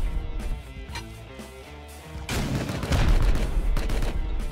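Heavy, continuous gunfire in the survival game Rust during a base raid, dense overlapping shots building louder and more chaotic over a low rumbling bed, with no clean gaps between bursts.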